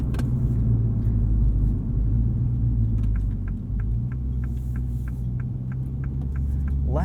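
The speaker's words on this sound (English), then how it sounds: "you can hear a little bit of the exhaust" The four-cylinder engine and exhaust of a 2021 Mini John Cooper Works GP drone in a steady low rumble from inside the cabin while driving, with a faint rhythmic ticking joining partway through.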